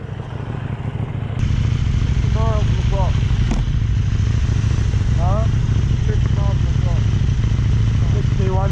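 A Zero FXS electric motorcycle rides past with a steady, loud broadband rush that starts about a second and a half in and holds to the end, while people talk over it.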